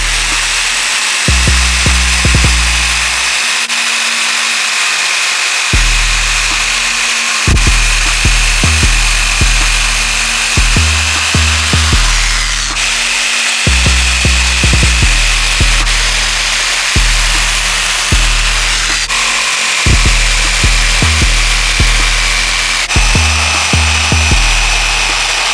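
Power tool cutting notches into the corners of wooden tweeter rings and sanding them smooth, a loud steady whine broken by repeated bursts of low grinding as the tool bites the wood, with no talking.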